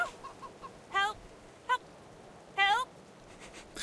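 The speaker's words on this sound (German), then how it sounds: "Richtig schön gegackert" Chickens in the video game Divinity: Original Sin 2 cackle in three short bursts, two longer clucking runs and one brief squawk, over a quiet game background.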